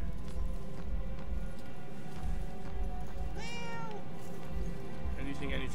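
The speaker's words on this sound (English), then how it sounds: "Yeah, see? The cat." A cat in the video game Murdered: Soul Suspect gives a single short, rising meow, moderately close, over steady low game ambience.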